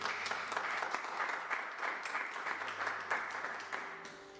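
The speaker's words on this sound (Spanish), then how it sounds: "denle un aplauso al Señor" A church congregation breaks into sustained applause, dense steady clapping with a few sharper claps standing out, filling the whole stretch without pause.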